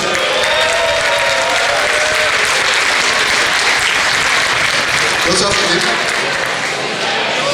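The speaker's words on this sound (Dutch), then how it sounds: "Applaus." Loud, sustained crowd applause fills a hall at a carnival prince's night as two former adjutants are honored, the clapping dense and even throughout with a murmur of voices mixed in.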